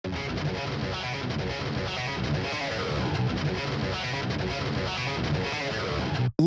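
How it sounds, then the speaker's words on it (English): Tech metal guitar in a mix, heavily distorted and saturated by a harmonic distortion processor: a dense, continuous chugging riff at steady loudness for about six seconds, then cut off abruptly. "And here's what our harmonic distortion's doing."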